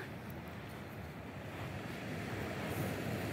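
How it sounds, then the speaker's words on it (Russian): Sea waves washing onto the shore at Gagra, Abkhazia at sunset, a steady broad surf wash that swells slightly louder toward the end, with some wind noise and no voices. "Море побольше волнуется, чем утром."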